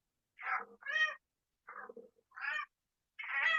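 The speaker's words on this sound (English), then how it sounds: "Oh, I hear those kitties." Several cats meow in five separate calls, some drawn out and some short, close by and clear with quiet gaps between them and no talking.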